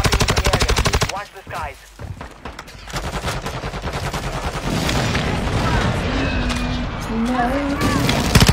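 Rapid automatic gunfire in the video game Fortnite, dense loud bursts of shots filling most of the stretch, with a short pause and other game effects, while a person talks over the action.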